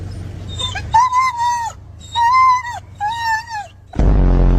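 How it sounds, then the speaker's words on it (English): A pet dog, a male, whines and yips in three drawn-out, wavering bursts, close and fairly loud, with a low rumble underneath and a loud broadband thump at the end. "That's my dog."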